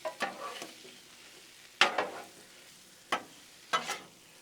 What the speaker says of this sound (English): Just every now and then, come in here and just stir everything up.